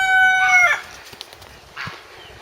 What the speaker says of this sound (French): un petit poulailler avec des hollandaises huppées